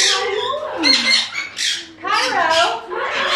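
Parrots at a parrot rescue let out loud, harsh squawks and shrill calls in repeated bursts, close by and mixed with people talking.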